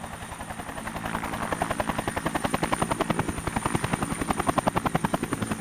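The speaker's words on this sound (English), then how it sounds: "The team sets off while Hadi waits for the arrival of a helicopter." A helicopter's rotor thumps in a rapid, steady rhythm, growing louder as it draws closer, in the mountains of Oman.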